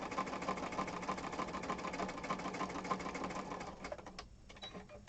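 A sewing machine stitches a junk journal cover with a steady, close whirring hum and rapid needle tapping for about four seconds, then slows and stops, leaving faint handling sounds.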